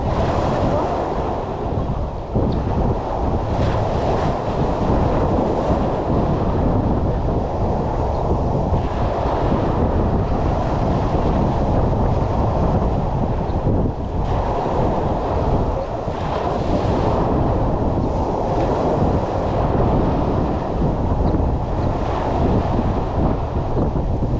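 Strong wind roars at sea aboard a fishing boat, with big waves surging in a loud, continuous wash of wind buffeting and crashing water that never lets up.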